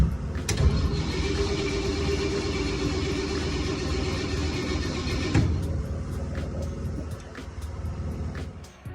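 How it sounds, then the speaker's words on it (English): The engine of a 1948 Ford F-1 panel truck cranks steadily, the starter grinding in a rapid rhythmic churn for about five seconds without catching, then it stops and a quieter mechanical rattle follows. "let's see if she'll start up now"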